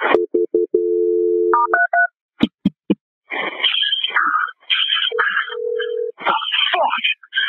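During a 911 call transfer to the fire department, a phone line plays loud close beeping tones and dial tones, followed by a ringing signal; a dispatcher's voice speaks between the tones.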